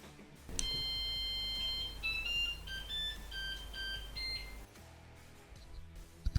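A FlashForge 5M Pro 3D printer plays a short electronic startup tune of stepped beeping tones over a steady low hum, then stops, leaving the machine humming quietly.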